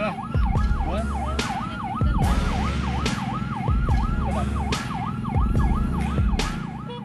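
An ambulance carrying a critical patient on an Indonesian road sounds a loud, fast-cycling wail siren that repeats steadily, broken by occasional sharp horn-like blasts, with traffic noise beneath.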